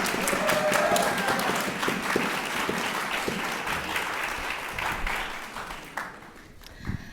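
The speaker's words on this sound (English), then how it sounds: "give her a round of applause for our actors" A congregation at a Sunday service applauds the actors, with dense, steady clapping from many hands that holds for several seconds before thinning out near the end.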